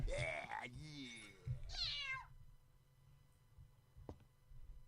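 A cat meows twice in the Harry Potter and the Philosopher's Stone video game, a loud drawn-out call followed by a rising cry, then quiet room tone with a faint click.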